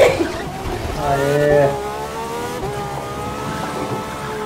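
A Ferrari racing in The Crew 2, engine revving and rising in pitch through a gear change, steady and fairly close, with a player's voice talking over it.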